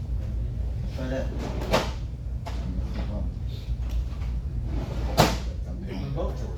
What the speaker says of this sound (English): I'm picking both drawers now.